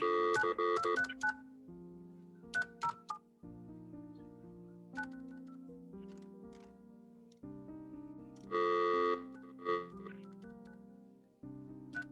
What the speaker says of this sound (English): could you call Ms. Fish's number with the area code 239